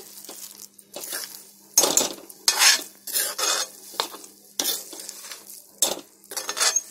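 A spoon scrapes and stirs a thick lentil and coconut mixture drying in a pan over medium-low heat, in irregular bursts of scraping separated by short pauses, close and clear with no talk.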